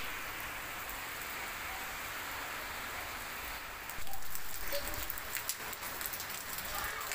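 Rain falling in a city: a steady, broad hiss of drops that grows slightly louder and more uneven after a few seconds, with no other sound.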